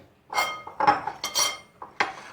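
A large bowl is set down in a home kitchen during fish recipe prep, giving a series of sharp clinks and knocks of dishware in quick, uneven bursts with no talking.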